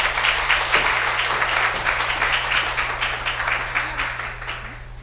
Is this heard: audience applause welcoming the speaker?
yes